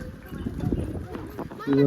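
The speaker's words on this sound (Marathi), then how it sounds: "बैलगाडी" Bullock hooves clip-clop unevenly on a hard surface alongside a rolling bullock cart near a beach, with a voice and a short humming tone at the end.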